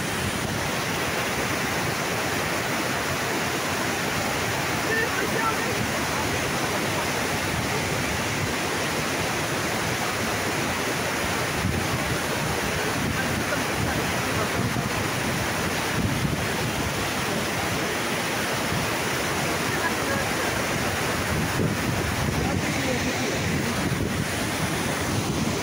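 Langevin waterfall, a loud steady roar of rushing, crashing water heard close and continuous, mixed with wind buffeting on the microphone, no voices.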